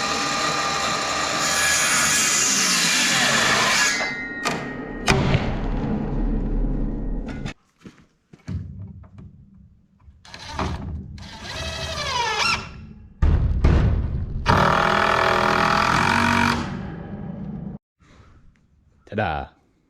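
Wooden boards being cut and fitted as bracing for a lambing-season build, with loud bursts of power-tool cutting broken by short pauses, knocks and handling clatter, and a voice talking in between.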